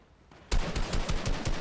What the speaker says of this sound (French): Tyson qui met des balles sur Janice